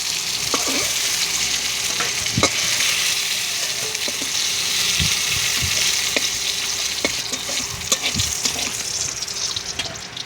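Pointed gourd pieces fry in hot oil with a steady, even sizzle, punctuated by occasional clicks and scrapes from stirring, close up and without talk.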